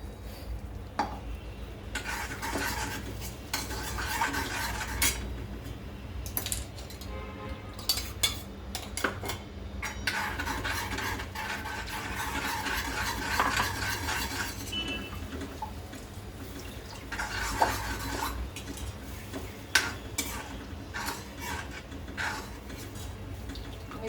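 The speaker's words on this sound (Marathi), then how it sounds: "साखर ढवळायचं आपल्याला म्हणजे दही ते फाटणार नाही" A spoon stirs sugar into curd in a bowl, giving repeated scraping and clinking strokes against the bowl in bursts, close and moderately quiet, with no talking.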